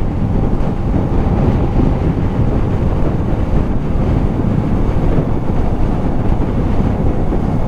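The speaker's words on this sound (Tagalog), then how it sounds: "Malakas yung hangin." Strong, steady wind buffeting roars across the microphone during a Yamaha Sniper 155 motorcycle ride, loud and continuous with low rumbling gusts and no voices.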